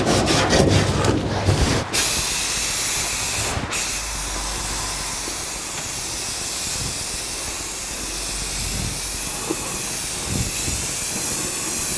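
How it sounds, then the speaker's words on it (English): A rag rubs with paint thinner across the firewall of a 1949 Chevrolet gasser, a steady, close, broadband hissing scrub with a few brief bumps near the start and no voices. "We'll wipe the whole thing down with a little paint thinner"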